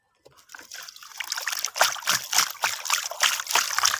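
Dirty water trickles and splashes as it is poured out of a chickens' water pot, with uneven sloshing bursts continuing for several seconds at close range.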